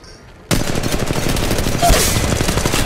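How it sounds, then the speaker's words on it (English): Gunfire in Apex Legends Mobile during a ranked match: after a quiet start, a sudden loud burst of rapid automatic shots runs continuously and close. "Shooting! Opening fire."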